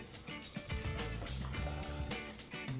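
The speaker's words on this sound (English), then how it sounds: "Now I'm gonna add 6 cups of water." Water pours from a container into a pan of soaked chickpeas, a continuous close splashing and gurgling fill that lasts the whole moment, with no talk.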